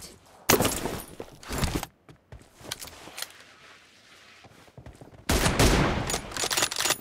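Gunfire in the PUBG Mobile video game: a loud, sustained burst of rapid shots, then a quieter stretch with scattered faint clatter, and a second heavy burst of rapid fire near the end.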